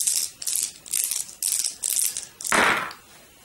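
Six dice from the Police Precinct board game tumble and clatter in a run of five rattling bursts, ending in one louder, fuller settle, close and alone with no talk.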